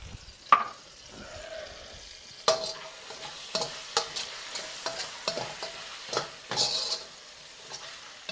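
Ginger and garlic being stirred in a hot pan, giving a soft steady sizzle broken by repeated scraping and knocking strokes of a utensil against the pan, close and moderately quiet.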